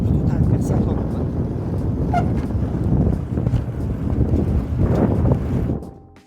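Heavy wind buffeting a microphone during a velomobile ride along the French shore, a continuous low roaring rumble throughout with gusty swells, fading out at the end.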